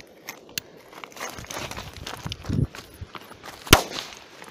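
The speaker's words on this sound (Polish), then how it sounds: "No to tak wybuchł pikolak tamtym." A small firecracker pops sharply, preceded by scattered crackles and rustling, with one loud close bang standing out near the end.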